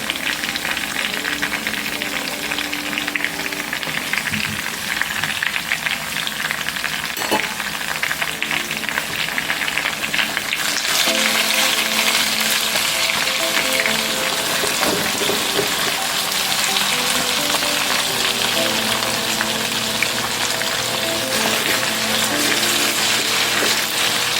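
Pork and jalapeno peppers stir-frying in a hot pan give off a steady, loud sizzle and crackle that swells partway through and keeps spitting continuously with no voices over it.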